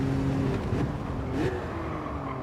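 A BMW M3 engine in Gran Turismo 7 hums at a steady, moderate drone with slight pitch shifts as revs rise and settle, heard continuously and fairly close with no talk.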